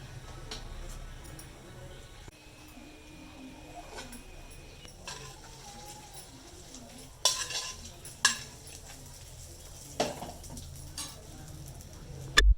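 A fried tempering being mixed into cooked rice for lemon rice, quiet stirring and scraping with a few sharper utensil knocks against the vessel, close and faint, with brief speech.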